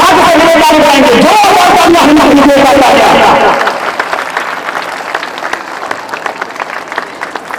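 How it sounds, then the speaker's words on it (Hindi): An audience at an office-opening ceremony in Mau district claps loudly for about three and a half seconds, then the applause thins into scattered, fading claps, with speech mixed in. "ताली सभी लोग बजाएंगे, हाथ से बजाएंगे"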